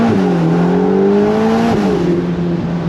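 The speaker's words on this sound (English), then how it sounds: "Little acceleration here." A 620-horsepower Ferrari Portofino M convertible accelerates hard, its engine note climbing steadily through a gear, then dropping at a shift and pulling again. The sound is loud and continuous, heard from the driver's seat with no talk.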